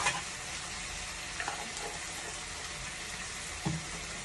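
Ghee sizzles steadily in a pan with cabbage, a continuous frying hiss with a few soft clinks and stirring scrapes, close and moderately quiet throughout.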